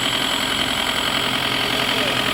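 An Isuzu 3000 turbo engine mounted on a Thai farm vehicle runs steadily at idle, with a dense, continuous mechanical rumble and knock, close and fairly loud.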